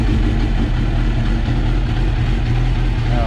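A Suzuki GSX-R motorcycle with 37,000 miles idles loudly and close, a dense, steady low rumble that holds without a break.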